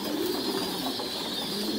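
Thai Titan pigeons coo steadily in a pigeon-rearing loft, a low soft cooing under constant background hiss, fairly near.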